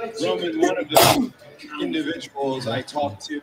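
One sharp, loud sneeze bursts out in the middle of a group's casual conversation, with voices talking before and after it.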